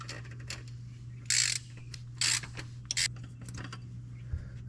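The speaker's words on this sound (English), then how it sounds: "It just goes on the end of your ratchet." A ratchet turns a cap-style oil filter wrench on the oil filter housing of an FJ Cruiser, 4Runner or Tacoma. Three short, sharp bursts of ratcheting clicks sound close over a steady low hum.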